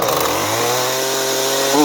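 A two-stroke chainsaw engine on half choke fires and revs loudly up close, its high whine starting strong then dropping in pitch as it sputters, briefly rising again at the end.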